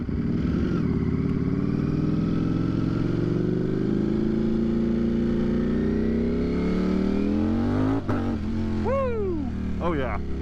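Powerful 200+ hp sport motorcycle geared with a smaller front sprocket accelerating hard, a loud close engine roar climbing in pitch through the gears, with a brief dip at a shift near the end and rising revs after.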